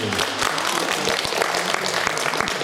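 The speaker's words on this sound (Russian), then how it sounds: "Аплодисменты, дорогие друзья" Steady, dense applause fills a hall during a tenth-anniversary concert of a vocal ensemble, a continuous wash of many hands clapping at close range with faint crowd murmur beneath.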